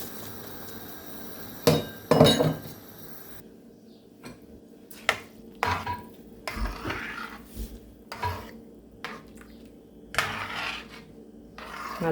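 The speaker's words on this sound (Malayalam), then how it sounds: "നല്ലപോലെ ഒന്ന് ഇളക്കി കൊടുക്കാം" Soaked basmati rice stirred into boiling water in a pot for Malabar-style ghee rice: scattered spoon knocks and scrapes against the pot, fairly quiet, with no talking.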